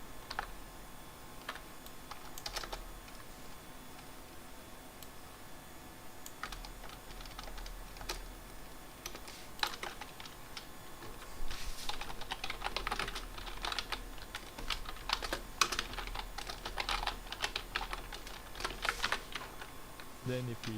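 Code being typed on a computer keyboard for a Unity game project, a long run of close, quick key clicks in uneven bursts that grow denser toward the end, with faint talk in places.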